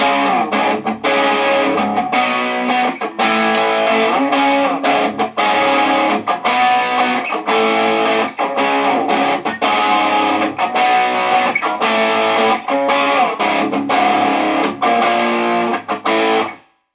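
Heavily distorted electric guitar in drop tuning plays the second main riff of a song. Dense chugging strums run loud and continuous for the whole stretch, with brief choked gaps between phrases, and no one speaks.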